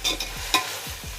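Onions and ginger garlic paste being sautéed in a pan for chicken dum biryani: a close, continuous sizzle with several quick scraping stirs of a spoon in a short burst, no talk.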